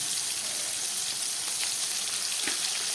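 Tomato and capsicum frying in a pan give a steady, close hissing sizzle with faint popping crackles, heard alone.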